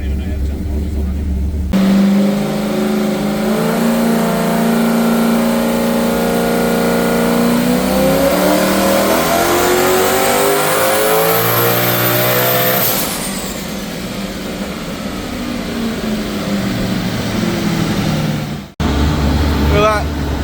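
A remote-mounted turbo Toyota Supra with a 1UZ V8 revs hard on a dyno, its loud engine note climbing steadily in pitch before the throttle drops and it falls away to a rougher idle.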